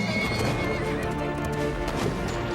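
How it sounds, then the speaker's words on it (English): A horse neighs loudly with clip-clopping hooves in a dramatic War Horse movie trailer, set within a dense, continuous cinematic soundtrack. "This horse can pull through anything."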